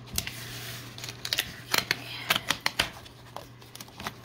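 Scissors trimming the edge of washi tape, a string of quick, crisp snips close by, irregular and fairly faint against a steady low hum, with no talking.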